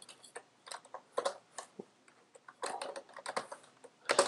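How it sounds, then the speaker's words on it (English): Bursts of quick keystrokes on a computer keyboard, close and clear, with short pauses between runs of typing and no talk over them. "So I'm going to go ahead and type."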